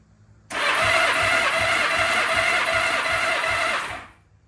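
A Honda Goldwing motorcycle engine cranks on the starter during a compression test with the throttle open, making a steady loud whirring churn with a rapid rhythmic pulse that runs about three and a half seconds and then stops.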